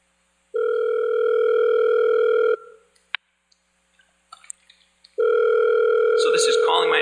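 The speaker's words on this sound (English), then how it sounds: "So this is calling my attack phone," Telephone call being placed: two long steady ringback tones separated by a gap of faint clicks and small noises, fairly loud and close, with scattered crackle near the end.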